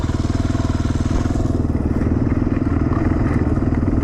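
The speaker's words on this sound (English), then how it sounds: "Sure nice to be on the motorcycle, man." Motorcycle being ridden on a desert highway toward Sasabe, Mexico, a loud, close engine drone with a rapid steady pulsing beat and wind rush, continuous throughout.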